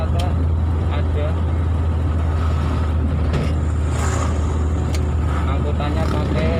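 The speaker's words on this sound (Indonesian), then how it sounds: "angkutannya pakai kol terbuka" A vehicle on a road in Central Java, near an open-back pickup used for passenger transport, rumbles steadily with continuous traffic noise and engine drone under faint talk.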